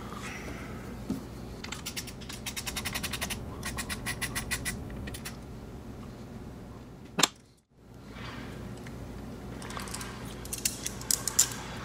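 Tools working on a high voltage connector of a Tesla Model 3 during a teardown: repeated close ratcheting clicks and creaks in bursts, a sharp knock partway through, then more scraping and clicking.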